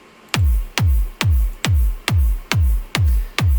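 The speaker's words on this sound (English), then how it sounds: "I have my kick drum, which sounds like this." Synthesized trance kick drum with a short noise-splash transient, thumping alone in a steady four-on-the-floor pulse of eight deep, booming hits with pitch-dropping tails.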